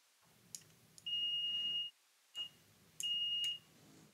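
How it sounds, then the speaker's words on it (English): Multimeter continuity tone while a septic air switch is tested: two steady high beeps, each lasting about half a second to a second, separated by quiet pauses and a few soft clicks. "we're testing it with the multimeter and we're getting tone"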